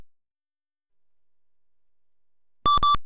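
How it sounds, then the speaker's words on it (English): After near silence, a short burst of electronic beeps sounds, three quick tones in a row from a terminal in a Jurassic Park video game. "If you can tolerate getting through all the beeps and boops"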